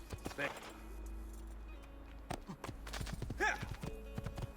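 Horse hooves clip-clop in Assassin's Creed II, short bursts of steady hoofbeats at moderate distance, sometimes with a whinny, while a person talks over the game sound.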